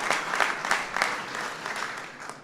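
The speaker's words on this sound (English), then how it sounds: "How about we all give President Trump an amazing round of applause for being here tonight." Loud, steady audience applause fills a hall for President Trump at a White House celebration of the 2018 college football national champions, with dense clapping rising in slight swells throughout.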